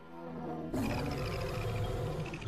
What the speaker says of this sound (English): Victory roar.